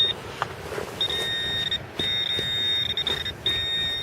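Metal detector tone sweeping over a buried target during an outdoor detecting outing, a steady high beep that cuts in and out in several repeated bursts.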